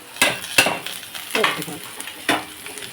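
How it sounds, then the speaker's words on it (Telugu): Coconut pieces and tamarind fry in a pan for a Telugu coconut chutney, with a steady sizzle and several sharp stirring scrapes and clinks of a spoon against the pan at close range. "అన్నీ ఒక 2 నిమిషాలు బాగా వేగనిద్దాం"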